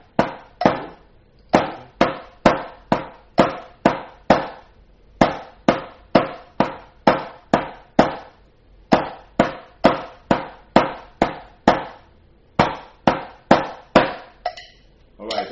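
Drumsticks click out a steady eighth-note exercise in a drum lesson: crisp, evenly spaced hits in bursts of about eight, each group separated by a short gap, close and loud with nothing underneath.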